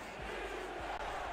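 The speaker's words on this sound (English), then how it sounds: "Crowd here at the Thunderdome on their feet." A football crowd at the Thunderdome roars on their feet, a dense sustained wash of cheering and shouting that fills the brief moment without letup.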